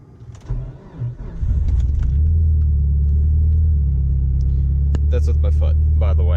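Mitsubishi Evo engine cranks and fires up, then holds a loud, steady rumble as the throttle is held open by foot, with voices talking over it near the end.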